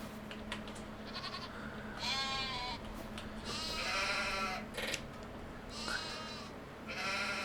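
Baby goats in Farming Simulator 25 let out a series of quavering, wavering bleats, several in a row with short gaps between them. They sound over a constant low hum of farm ambience.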